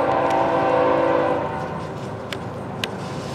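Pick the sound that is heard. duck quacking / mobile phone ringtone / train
train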